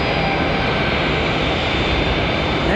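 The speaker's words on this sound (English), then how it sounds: "That's 737." Boeing 737 jet airliner at Charlotte Douglas International Airport, a steady, loud, broadband engine roar holding constant throughout with no voices.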